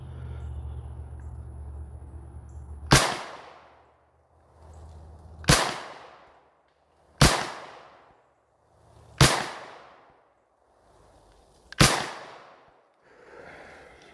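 Five sharp, loud gunshots from a Manchester Arms Mini Commando Mark 45 tommy gun clone, fired singly at uneven intervals of about two seconds, each with a short decaying echo.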